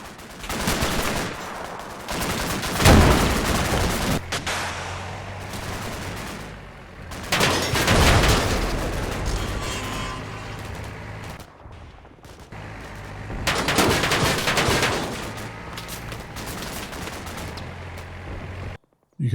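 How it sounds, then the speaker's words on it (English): Heavy gunfire in the Cold War wargame Combat Mission Cold War, with loud waves of rifle and machine-gun bursts and booming blasts swelling and fading several times over a rumbling battlefield. "comes under heavy fire from those 2 tree lines up ahead"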